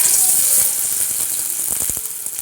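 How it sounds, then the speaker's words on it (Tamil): Sliced onions fry in hot sesame oil in a home kitchen pan, giving a steady, close, bright sizzle with scattered small pops and crackles and no talking. "வெங்காயம் நல்லா பொன்னிறம் வர வரைக்கும் வதக்கணும்"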